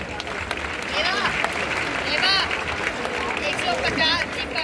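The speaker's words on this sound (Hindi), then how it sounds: "बच्चों के लिए तालियां आशीर्वाद देते रहें।" Applause for children at an Arya Samaj foundation day event in Delhi, a crowd clapping steadily amid hubbub and chatter, with voices rising and falling over the clapping throughout.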